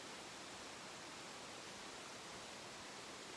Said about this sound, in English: There's another waterfall up here.